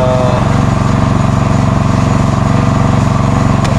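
A farm power sprayer's small engine runs loud and close with a steady, even putter that never changes pace; the engine drives two machines off one shared belt.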